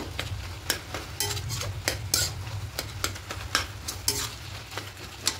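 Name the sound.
stirring cabbage and potatoes in a pan with a spatula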